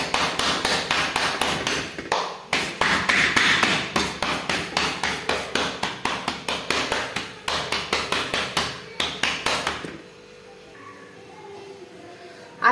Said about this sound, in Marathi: आता अशी छान भाकरी थापून घ्यायची।